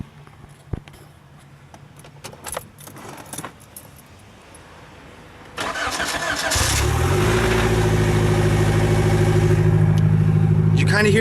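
A GA16 engine with a bottom-end knock cranks and catches, settling into a loud, steady close idle after some jangling keys and handling noise.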